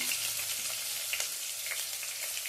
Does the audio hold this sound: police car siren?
no